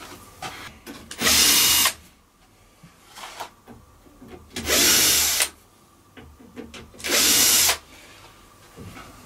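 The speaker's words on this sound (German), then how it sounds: "Dann drehe ich mal eben die Schrauben hier raus." A power screwdriver backs screws out of a display cabinet in three loud whirring bursts, each about half a second long, separated by quieter handling noises and clicks.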